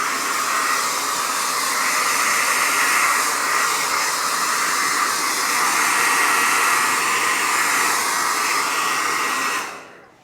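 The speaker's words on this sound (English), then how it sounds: "Then I'm going to take my blow dryer and" A blow dryer drying a chalkboard runs steadily at close range, a loud even whoosh of air that holds for several seconds before cutting off.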